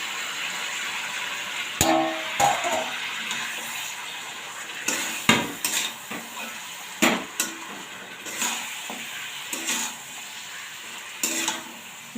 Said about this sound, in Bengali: ভালো মতো মাংসের সাথে নাড়িয়েছি।